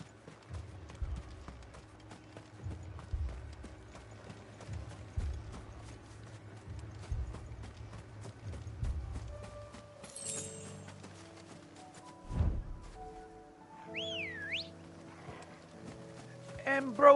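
Hooves of a riding mount in Final Fantasy XVI, soft rhythmic clip-clop footfalls at a steady trot, faint beneath game music and a few whooshing effects, with a brief whistling tone near the end.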